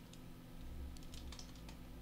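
A computer keyboard clatters as VBA code is typed into Excel, a short run of quick, soft key taps with faint hum underneath and no talking.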